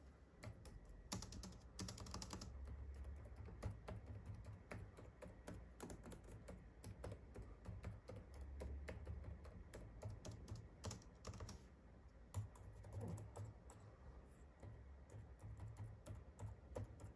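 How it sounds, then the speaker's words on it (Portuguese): Fingers type steadily on the keyboard of an Acer Nitro 5 gaming laptop, a continuous close patter of key clicks with small pauses, no talking over it. "vou digitar só para vocês verem a experiência de como é"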